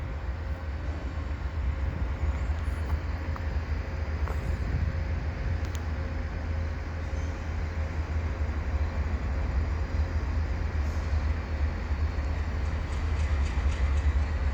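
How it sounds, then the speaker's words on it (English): A CN eastbound freight train rolls past on the rails at Dorval, giving a steady, loud low rumble with rail noise that holds throughout. "Another CN train"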